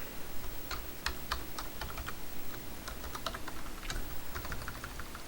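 Computer keyboard typing, close and alone: a quick run of irregular key clicks with small gaps between bursts, while entering an Excel formula.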